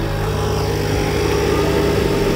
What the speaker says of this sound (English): A lot of air moving in there, so it's a lot more noisy than the other Integra.